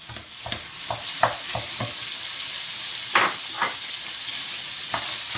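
Onion and minced meat fry together in a pan with a steady sizzle close by, broken by several distinct spatula stirs and scrapes, with no talk.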